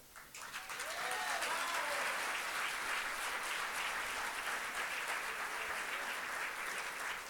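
Sustained applause from a conference audience at a political colloquium, a dense steady wash of many hands clapping at moderate distance, continuing without break throughout.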